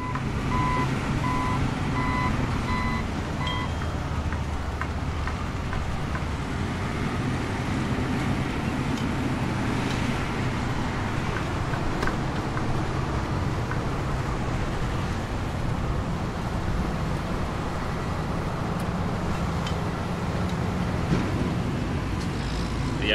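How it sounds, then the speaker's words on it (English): Construction site ambience with a truck's reversing alarm beeping in a steady rhythm early on, over a continuous wash of engine rumble and distant traffic noise, moderately far, with no clear speech. "Hopefully you guys can hear the construction site in the background."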